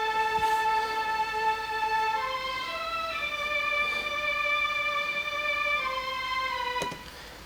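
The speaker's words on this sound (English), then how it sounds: "I just played this very simple little string melody to go with the rest of the beat" A dark, old-sounding string orchestra preset in Omnisphere plays a slow, simple melody of sustained notes that step down and back up, clear and alone, ending with a faint click.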